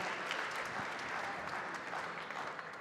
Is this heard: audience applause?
yes